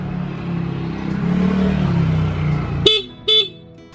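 After a low engine hum, a Honda Beat scooter's horn, just adjusted for maximum loudness, gives two short, loud, close toots in quick succession.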